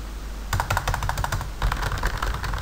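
Typing on a computer keyboard during an Active Directory Rights Management Services lesson: two close bursts of rapid, clattering key presses with a brief pause between, over a low hum, with no talk.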